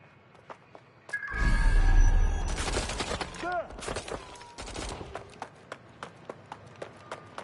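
Gunfire erupts in the Watch Dogs: Legion video game, a loud burst of rapid shots and impacts around one second followed by scattered sharp cracks and clatter, with a voice calling out over the noise.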